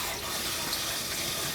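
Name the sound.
warm water running from a tap for a dog bath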